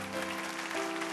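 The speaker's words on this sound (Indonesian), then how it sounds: "Berikan tepuk tangan." A church congregation claps at a sermon, a short burst of steady, moderately quiet applause filling the room.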